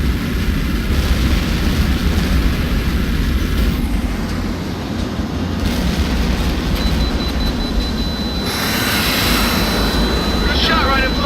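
Loud, continuous roar of jet aircraft engines in the combat flight game Tom Clancy's HAWX, a steady close rumble with a brief shift in tone, while radio voices talk over it.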